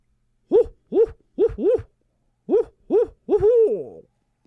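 A man imitates an owl with his voice, giving seven short, rounded hoots in an uneven rhythm and ending on one longer, wavering hoot, close and clear against silence.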